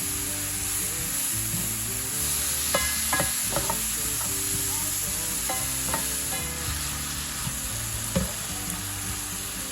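Meat searing in a hot pan with steady loud frying and sizzling throughout, punctuated by occasional clinks and scrapes of a utensil being stirred, no talking.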